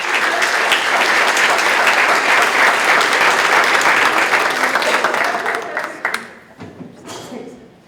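An audience at a university art lecture on Luis Quintanilla's Don Quixote murals breaks into loud, sustained applause that fills the room for several seconds, then tapers off and fades to a few scattered claps.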